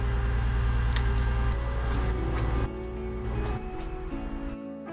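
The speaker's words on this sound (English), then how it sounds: "There's a bridge over there and there's a truck just next to it doing some water pumping action." A steady, loud motor drone with deep low rumble from a truck pumping water beside a river bridge, continuing throughout with slight changes in pitch and level.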